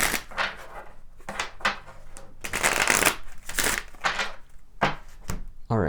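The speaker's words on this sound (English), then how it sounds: "let's pull some of the Kipper cards here and see what the Kipper has for us" Kipper fortune-telling cards shuffled by hand, close and fairly loud, in repeated riffling bursts with short pauses between them.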